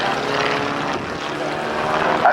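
A propeller aerobatic plane roars steadily overhead at an airshow, its engine drone loud and continuous, swelling slightly near the end.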